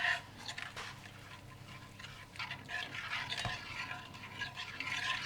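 A spoon works plant milk, almond milk among them, into a rice-flour mixture with soft, wet swishing and scraping, quiet and close, with no one talking.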